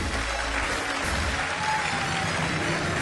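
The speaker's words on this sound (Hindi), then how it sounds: "अब रुक जाओ, ताली बजाने वाली बात नहीं है।" An audience applauds in a dense, steady roar of clapping that lasts the full few seconds, loud and even throughout.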